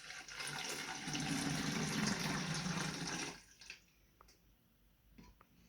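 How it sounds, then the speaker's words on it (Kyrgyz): About 180 ml of water poured into a container while making a homemade antiseptic: a steady splashing pour for roughly three seconds, then it stops and only faint small knocks follow. "Бизге биринчиден суу 180 мл сууну идишке куюп алабыз."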